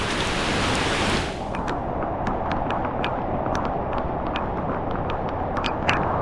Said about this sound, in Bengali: বৃষ্টি থেমে যাও, থেমে যাও